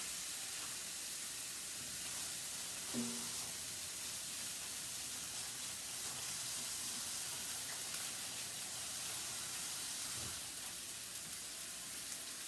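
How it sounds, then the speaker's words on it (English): Steady hissing sizzle of chicken frying in a pan, continuous and close, with a couple of faint clinks partway through. "Do you hear that sizzle? That's what you want to hear."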